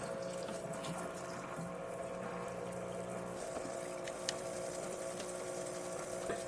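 A parts washer runs with a steady pump hum and a constant flow of solvent splashing as KitchenAid tilt-head mixer gears are brushed clean, with no pauses.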